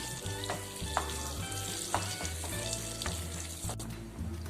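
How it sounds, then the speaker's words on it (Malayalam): Cashews and raisins fry in ghee with a steady sizzle, punctuated by a few spoon-stirring knocks, over a low humming drone. "കാഷ്നട്ടും മുന്തിരിയൊക്കെ ഒന്ന് നെയ്യിൽ വറുത്തെടുക്കണം."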